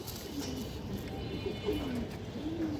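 Old-breed Bagha pigeon hen with red gear cooing softly in a loft, a few wavering low coos spread over a constant noisy background.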